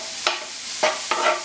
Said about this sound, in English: stir this meat up